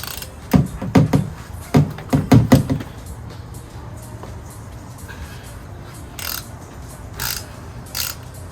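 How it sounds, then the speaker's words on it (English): Oil filter wrench working a tight oil filter loose on a 2021 Yamaha MT-09 motorcycle: a cluster of sharp ratcheting clicks and knocks in the first three seconds, then quieter shop noise with a few faint scrapes. "you're gonna need an oil filter wrench. Because that baby is on too tight."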